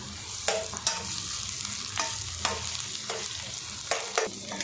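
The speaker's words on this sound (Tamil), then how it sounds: "இஞ்சி துருவல் சேர்த்துட்டு நல்லா வதக்கி விட்டுட்டேன்" Onion and grated ginger sizzle steadily in a hot pan, with repeated sharp scraping clicks from a utensil stirring every half second or so.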